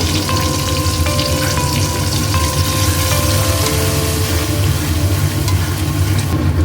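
Mustard and poppy seed paste is worked into a vegetarian potato curry (aloo dum) in a pan, producing a loud, dense, unbroken frying sizzle close up throughout.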